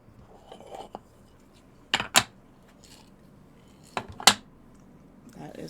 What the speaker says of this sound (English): That is the sound of my beautiful maraca box full.